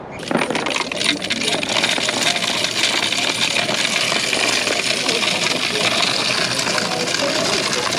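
Coins from five years of savings poured out of a container, a dense continuous metallic jingle and clatter that starts abruptly and runs steadily at close range with no letup.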